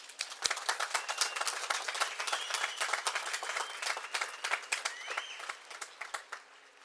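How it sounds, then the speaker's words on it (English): An audience at a medical school matriculation ceremony gives the class of 2029 a round of applause, moderately distant and uneven, with individual claps standing out before it thins toward the end. "I think we should give another big round of applause for you for collectively making it into medical school"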